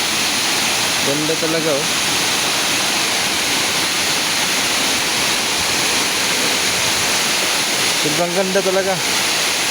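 A long waterfall where people bathe gives off a loud, steady, broadband roar that never lets up, while someone speaks excitedly over it near the start and end.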